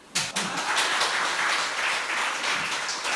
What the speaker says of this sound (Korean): 그 박수 한번 쳐주십시오.